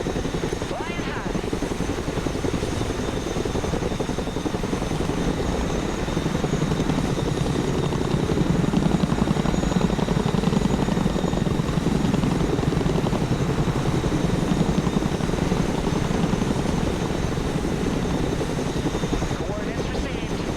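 A Chinook helicopter in a military strategy video game drones with a steady heavy rotor thrum and engine rumble, loud and continuous throughout, with faint voices mixed in at times.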